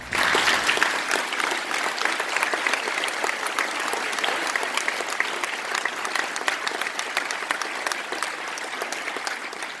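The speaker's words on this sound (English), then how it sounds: "Please give him a round of applause." Sustained applause from a crowd at a Northern Kentucky celebration of life event, steady and fairly loud throughout without a break.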